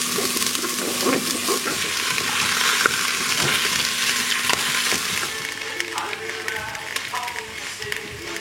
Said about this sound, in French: je vais faire revenir les échalotes avec de l'huile d'olive pendant 2 à 3 minutes